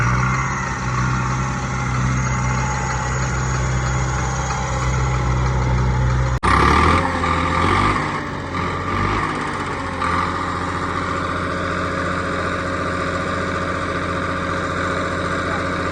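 A modified Swaraj 855 tractor engine runs steadily with a loud, continuous diesel drone, holding a low rumble throughout with a brief sharp knock partway through.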